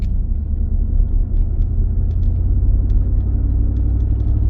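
Chevy Silverado pickup engine pulling under acceleration during a drive cycle, a loud, steady low rumble heard from inside the cab with no speech.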